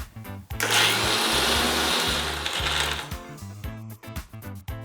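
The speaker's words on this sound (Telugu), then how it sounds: "దాన్ని ఒకసారి మిక్సీ పట్టుకోవాలి." A mixer grinder blends chopped ginger for a ginger pickle in a loud, steady whirring burst of about two and a half seconds, then cuts off while background music carries on.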